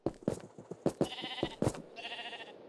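Several bleats from Minecraft video game sheep, short wavering calls rising over a busy patter of blocky game sounds, loud and close, with a couple of bleats trailing together near the end.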